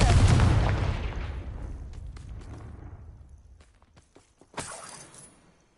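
A Confringo fire spell blasts in Hogwarts Legacy as one loud, close explosion with a long rumbling decay. Scattered debris clicks follow, then a second sharp crack and a fading tail.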